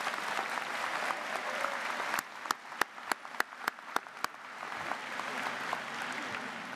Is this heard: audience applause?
yes